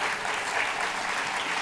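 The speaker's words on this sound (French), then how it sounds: "je pense qu'on peut applaudir" A dense, even burst of audience applause, many hands clapping together in a continuous wash without breaks over a short stretch.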